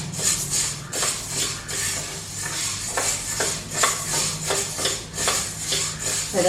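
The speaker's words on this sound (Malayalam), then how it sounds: "ചെറുപയർ നമുക്ക് വറുത്തെടുക്കാം." Green gram is dry roasted in a pan for a Kerala thoran, the stirring spoon scraping and clinking in a steady rhythm over the rattle of rolling grains, close and moderately loud.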